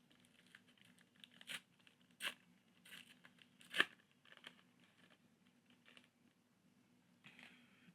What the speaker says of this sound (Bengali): এবার আমরা নেক্সট প্যাক আনবক্স করব